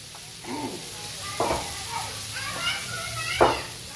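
Faint sizzling of mung bean stew ingredients sautéing in a pan runs steadily beneath a few scattered voices, the frying staying soft and continuous throughout.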